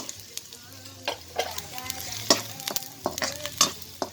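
Onions sauté in a pan for a simple egg and pechay dish. A close, steady sizzle runs under repeated spatula scrapes and clinks that come in an irregular rhythm, with no talk.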